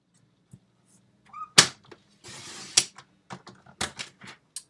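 Paper being trimmed to size on a paper cutter while making a Stampin' Up holiday card, giving a few sharp clacks and one longer sliding cut in a quiet room with no talk.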